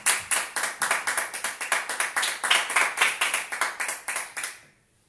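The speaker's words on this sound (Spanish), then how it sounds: "Dale un aplauso al Señor." A church congregation claps in unison, a steady rhythmic beat of about four claps per second that runs strong and close, then stops abruptly into a short silence.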